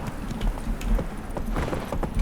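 Roach, the horse in The Witcher 3, gallops with quick, steady hoofbeats, close and fairly loud, over a continuous background of ambient game noise.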